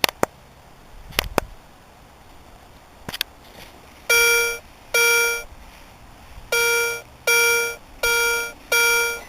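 A metal detector sweeps over a buried zinc penny in a park, giving a run of six loud, high, even electronic beeps in a steady rhythm after a few faint clicks and scrapes at the start, with no talking.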